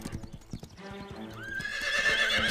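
In a cartoon horse scene, hooves clip-clop in a quick rhythm, then a horse gives a loud, rising whinny that carries to the end.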